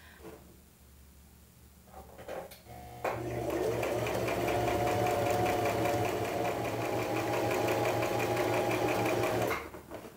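A sewing machine stitches a seam in chiffon for a wrap dress, running at a fast steady whir for about six seconds after a few short starts and handling clicks, close and alone.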